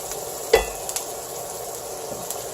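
Peppers and onions sizzling in a pan as they soften, a steady frying hiss with one sharp clink of a utensil against the pan and a few faint taps.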